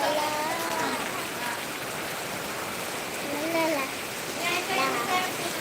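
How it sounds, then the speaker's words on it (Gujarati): Heavy rain pours down steadily in Keshod, a dense constant hiss with a voice talking over it. "જુઓ વરસાદ કેશોદની અંદર ધોધમાર વરસાદ"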